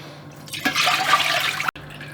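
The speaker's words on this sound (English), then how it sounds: "as we strain off the stock from the bones" Stock liquid being strained off cooked bones pours and splashes in a steady, close wet rush for about a second before stopping abruptly.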